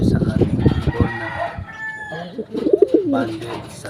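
Gamefowl roosters being readied for a derby crow and cluck nearby, with a clear crow near the middle and other clucks and bird calls mixed in against a busy background.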